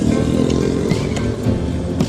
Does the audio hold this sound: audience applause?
no